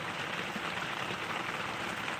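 Steady rain falls in a wooded area where sheep are kept in Ramagiri mandal, Sri Sathya Sai district, a continuous soft hiss of drops with no voices.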